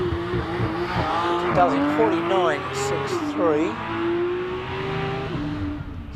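A race car climbs the hill at Prescott during the Midland Hillclimb Championship, its engine revving hard and rising in pitch through quick gear changes, loud and close, with a commentator talking over it.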